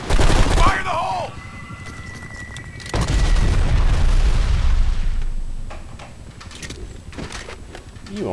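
An explosive charge detonates in the Blacksite: Area 51 video game, a deep, loud boom followed by rumbling blasts and gunfire, with voices talking over the action.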